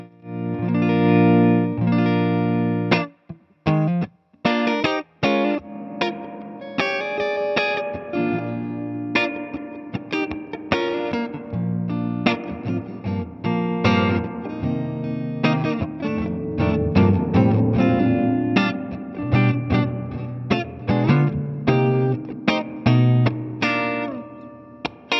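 Electric guitar played through a preamp and the spring reverb of the Element, with distorted chords and single notes ringing out with a lush, splashy tail, loud and continuous, briefly breaking off near the start.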